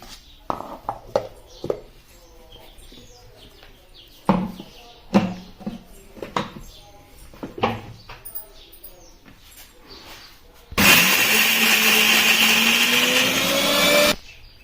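A mixer grinder grinds fresh coconut and onion into paste: a loud, steady motor whine that runs for about three seconds and rises in pitch, following clattering kitchen sounds and talk.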